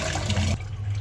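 Running water splashes briefly while fish are rinsed, a short close gush that cuts off abruptly halfway, leaving a faint low rumble.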